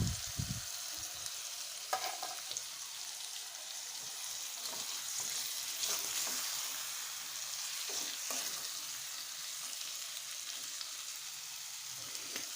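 Mixed vegetables for Maharashtrian bhogi bhaji being stir-fried in a pan with asafoetida, a steady close sizzle with occasional scraping stirs, heard alone without talk.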